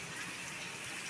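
Rain pours down steadily in a jungle setting, with rainwater running into a house: a dense, unbroken hiss of falling drops, close and even, with no voices.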